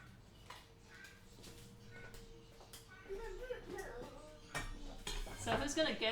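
A knife and cutting board are handled in a kitchen, giving light clinks and knocks that grow busier toward the end, with faint voices in the background.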